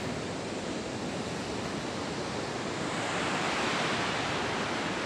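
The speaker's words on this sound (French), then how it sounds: "vraiment les vagues et tout c'est trop stylé" Ocean surf in Bali roars as a dense, continuous wash of breaking waves, loud and close, with no voices.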